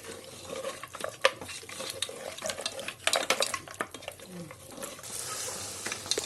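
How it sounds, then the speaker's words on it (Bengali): Mutton trotter curry being sautéed in a pan: a steady background sizzle with clustered metallic scrapes and clinks of a spatula against the pan, irregular and close, swelling into a brighter hiss near the end. "ভালো করে এটাকে আমি কষিয়ে নেবো"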